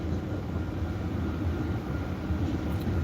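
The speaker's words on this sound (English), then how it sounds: "This is a long train." A long freight or passenger train rumbles steadily past a track crossing, a continuous loud low roar with no breaks, heard close by from a waiting car.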